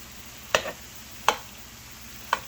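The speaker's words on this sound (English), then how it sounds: "I'm just going to start mixing this in here." Cream cheese being mixed for jalapeño poppers gives three sharp, separate knocks of a utensil against a bowl, spaced unevenly over a faint background hum, with no talk.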